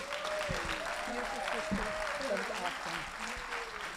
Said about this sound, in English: Another bigger hand for that share.